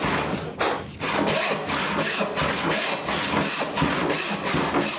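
A hand saw cuts a kerf across wood end grain near the top of a board for a living wall box, in a steady rhythm of close, rasping back-and-forth strokes with no talking.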